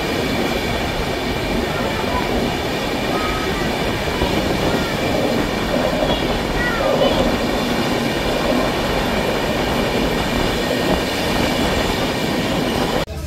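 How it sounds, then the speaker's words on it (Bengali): The Digha–Howrah Kandari Express rolls out of Mecheda station, a loud continuous rumble of wheels and carriages with faint rhythmic clatter and occasional squeal, heard from on board. "ট্রেন আমাদের ছেড়ে বেরোচ্ছে মেচিদা স্টেশন"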